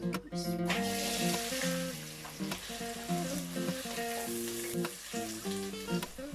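Two medium onions sizzle in half a cup of hot oil for a brinjal bharta, a steady close frying hiss running under prominent melodic background music, with no talking.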